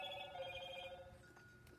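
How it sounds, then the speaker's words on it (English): A new mobile phone rings with a repeated electronic ringtone in pulsed bursts, moderately clear in a quiet room, then fades toward the end. "That's my phone."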